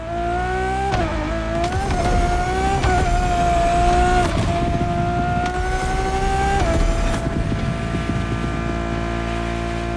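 Ferrari Enzo V12 engine in the racing game The Crew Motorfest, a loud, steady high-revving drone held for the whole stretch, with brief pitch dips at gear shifts and no talking.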